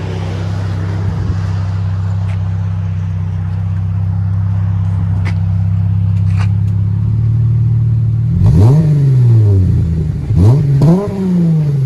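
Dodge Challenger 3.6L V6 with an aftermarket exhaust idling with a deep, steady drone, then revved hard several times near the end, each rise and fall loud and close.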